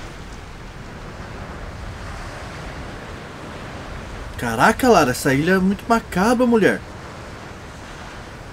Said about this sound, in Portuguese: Nossa, esse vento que não para também, viu?